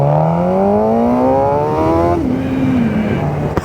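Supersport motorbike pulling hard in first gear, its engine note climbing steadily in a loud, close whine that rises and then dips as the throttle eases, with continuous wind and road roar.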